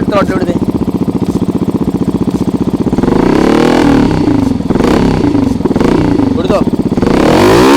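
A Yamaha FCX off-road motorcycle idles with a fast, even thump near its exhaust, then the throttle is opened into several loud revs that rise and fall, with people talking nearby.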